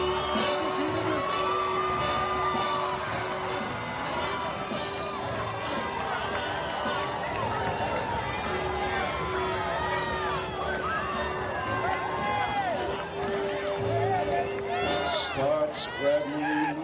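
At the Port Jervis High School class of 2024 graduation, a large crowd cheers, whoops and claps with overlapping shouts and babble, while a sustained musical tone hums beneath the noise.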